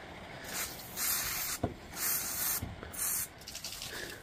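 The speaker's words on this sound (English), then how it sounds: "put a little bit of cleaner in there, and hopefully that'll clean the contacts" Holts contact cleaner sprayed into the trigger switch of a Panasonic EY75A2 impact driver, with four short, close hissing bursts separated by brief pauses.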